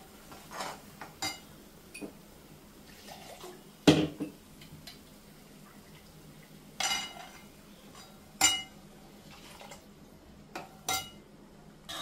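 A spoon stirs kitchen king masala through a cooking pot for a vegetable kurma curry, giving intermittent metallic clinks and scrapes against the pot's sides, close and sparse, with no voices.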